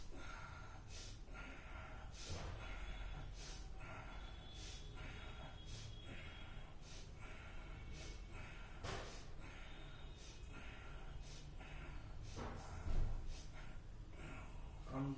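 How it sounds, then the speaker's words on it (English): Slow, deep breaths drawn in and pushed out through the nose during a gentle yoga exercise, soft and close, repeating in a steady rhythm with faint snort-like exhales and no talking. "Keep breathe in, breathe out."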